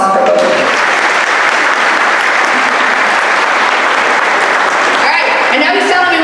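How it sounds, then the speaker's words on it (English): A crowd applauds loudly and steadily throughout an opening ceremony at the MCS All Star Classic, with dense clapping that swells slightly near the end. "Big round of applause for both."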